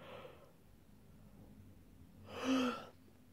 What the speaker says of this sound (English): As you can see, I keep yawning.